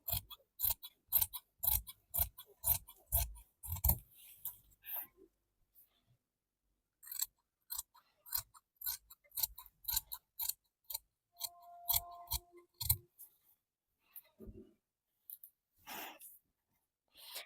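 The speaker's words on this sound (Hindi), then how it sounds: "अभी मैं इसको तीसरे वाले लाइन के हिसाब से काट लेती हूँ" Scissors cut woolen suit fabric in quick, rhythmic crunching snips up close, in bursts separated by short pauses, with one longer silent gap midway.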